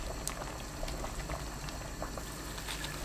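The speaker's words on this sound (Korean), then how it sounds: "뚜껑 닫지 말고 센 불로 끓이면 되는데 물이 끓으면 그때부터 3분 더 끓여주세요" Salted water with chopped green onion comes to a steady rolling boil in an uncovered pot on high heat, a dense continuous bubbling and popping with no voices.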